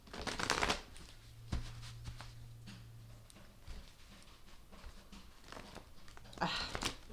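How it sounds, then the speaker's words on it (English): Cards riffle and flutter in a few bursts, with soft tapping and shuffling between them, close and fairly quiet. "This deck. So hard to shuffle. I keep flipping cards out too."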